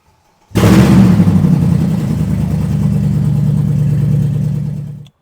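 A Mercedes C63 engine fitted with only one exhaust starts up and runs loud and close, a steady deep rumbling idle for about four and a half seconds before cutting off.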